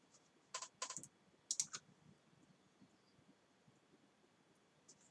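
Someone types on a computer keyboard during a Photoshop session: two quick bursts of key clicks, then a brief final tap, faint and close against a quiet room hiss, with no voices.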